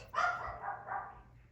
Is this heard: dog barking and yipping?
yes